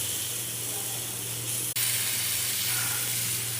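Homemade food fries in refined oil in a wok with a steady, close sizzling hiss and a brief dip partway through.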